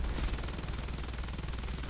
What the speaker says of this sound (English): And that's something shooting at us.